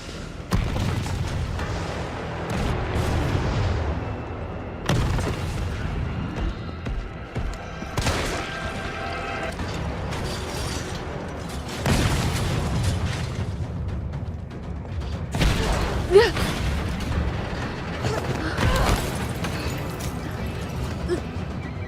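Rocket fire and explosions from the Resident Evil 3 Remake video game, a run of heavy booms and bursts recurring every few seconds over a dense, rumbling action backdrop.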